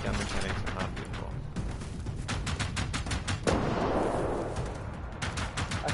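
Gunfire in the Generation Zero game, rapid bursts of repeated shots in quick rhythm, close and loud, broken by a short pause and a softer rumbling stretch before firing resumes.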